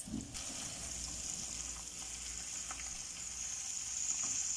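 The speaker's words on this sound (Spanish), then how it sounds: "Acabo de agregar las salchichas a la mantequilla." Sausages frying in butter in a pan give a steady, close sizzle with a faint crackle that holds evenly throughout, with no talking.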